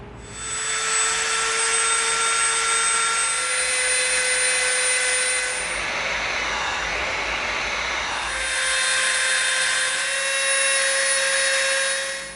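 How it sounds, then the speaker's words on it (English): A Dremel rotary tool bevels the edge of an EVA foam prop part, a steady high-pitched whine held close for about twelve seconds that drops in pitch midway under load, then rises again, with no talking. "we're going to Dremel this edge around the top to get a beveled edge"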